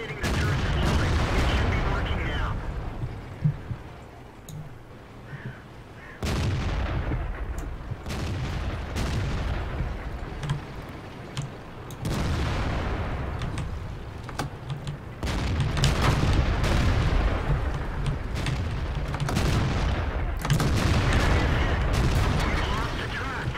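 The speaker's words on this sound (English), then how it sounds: "The SU-152 is firing heat rounds." Tank cannon fire in World of Tanks, including an SU-152 firing HEAT rounds, heavy booming shots recurring every few seconds over rumbling engine and battle noise, with players talking throughout.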